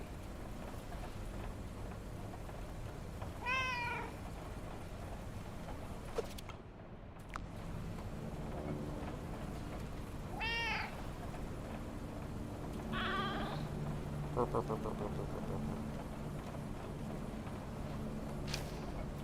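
In the video game Cash Cleaner Simulator, a cat gives three faint, short meows spaced several seconds apart over a soft, steady background wash.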